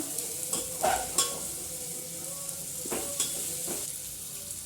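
Onions frying in a pan for mixed vegetable upma give a soft, continuous sizzle, broken by several scraping stirs of a spoon against the pan, close by and fairly quiet.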